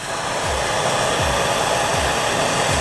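A Nortel Minor glassblowing torch roars with a steady, loud rushing flame, close and unbroken, while faint low thuds recur in the background.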